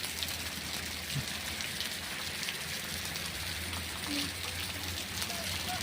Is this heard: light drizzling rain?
yes